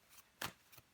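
Tarot cards being shuffled and drawn, a few quiet, soft riffles and slides, with one sharper flick in the middle and no speech.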